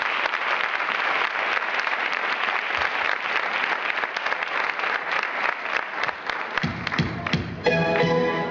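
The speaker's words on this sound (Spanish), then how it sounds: "Así es que las vamos a recibir como se merecen, con un fortísimo aplauso a las niñas," An audience at a dance anniversary show applauds young girl dancers with loud, sustained clapping from a full crowd. The applause thins toward the end as music starts.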